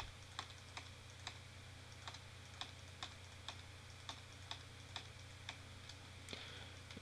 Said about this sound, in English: all I'm doing is clicking and selecting each cube that I don't want and hitting the delete key